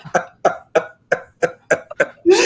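Seven or eight distinct coughs in a steady, evenly spaced run, close and fairly loud, with no talking between them and a harsher burst at the end.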